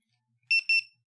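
An electronic buzzer on a smart ceiling fan controller gives two short, loud, high-pitched beeps in quick succession, close by and with no talk.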